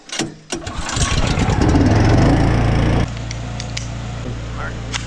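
A pressure washer's small gasoline engine, choke engaged, is pulled and sputters to life, revving up loudly and then dropping into a steady close-up idle.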